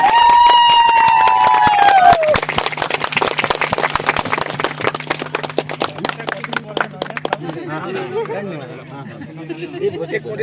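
An audience at a high school get-together claps in a dense burst under a long tone and background music, with chatter and voices as the applause thins out.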